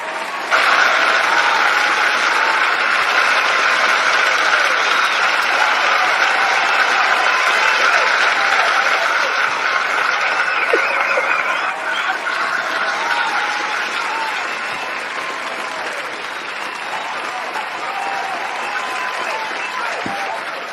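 Sustained applause from a crowd, dense and loud throughout, easing slightly toward the end without fully stopping.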